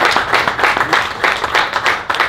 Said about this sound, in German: Ist Minimum auch ein Applaus wert.